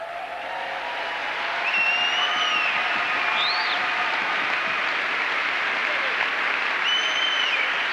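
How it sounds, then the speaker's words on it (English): Audience applause at a talk welcoming Rob Parsons, steady and sustained clapping from a crowd throughout, with faint voices and whistles riding over it. "I'll tell you when to clap."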